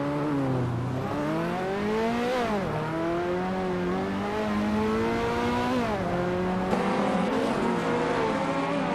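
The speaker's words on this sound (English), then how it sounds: "Looks like tight racing with a mix of classic Group B cars." Classic Group B rally cars racing in a video game, a loud continuous engine roar that repeatedly climbs in pitch and drops back at gear changes, with several cars layered together and no talking.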